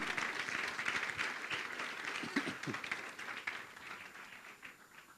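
A church congregation claps together during a Spanish-language worship service, a lively burst of applause that swells early, then gradually thins and fades, with a few voices briefly rising underneath.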